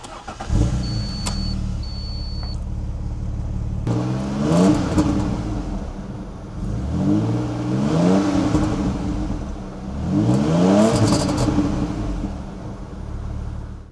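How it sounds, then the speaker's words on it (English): A car engine idles, then revs hard three times in a row, each rev climbing and falling back, loud and close with no talking. "Let's hear the engine."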